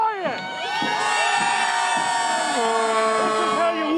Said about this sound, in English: The crowds get bigger and bigger and louder and louder.